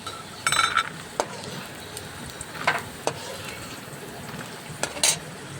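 Oil crackles and sizzles quietly as dried red chilies fry after peanuts, while a utensil scrapes and clinks against the pan in several sharp bursts, no voices.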